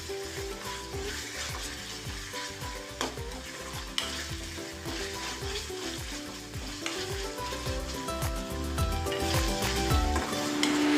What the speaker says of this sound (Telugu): 2 స్పూన్లు అల్లం వెల్లుల్లి పేస్ట్ వేసి దాన్ని కూడా పచ్చి వాసన పోయేంత వరకు వేగనివ్వాలి.